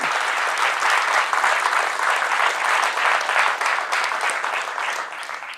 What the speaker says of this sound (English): So, claps for Dave.